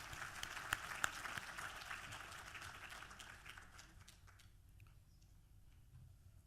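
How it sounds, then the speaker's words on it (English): Applause from a conference audience, a dense round of clapping that is loudest at the start and then thins and fades over several seconds, with no voices over it. "we got to give them a round of applause for that."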